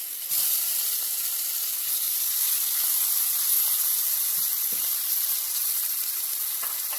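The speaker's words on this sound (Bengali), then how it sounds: "এবার আমি ওই তেলে চিংড়ি মাছটাকে অল্প হালকা করে ভেজে নেব।" Shrimp fry lightly in hot oil for a pointed gourd dish, a loud continuous hiss close by with a few faint knocks and no voices.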